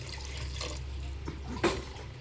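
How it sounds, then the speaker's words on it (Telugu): A glass of water is poured into tamarind broth for a small-fish curry: a soft steady liquid splash runs throughout, ending with a short louder clink-like burst near the end. "ఒక 1 గ్లాస్ వాటర్ అయితే పోస్తున్నాను నేను"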